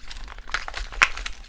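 Scissors cutting into a heavy, well-packed eBay package, heard close up as brief crinkling and snipping of packaging with a sharper crackle near the end.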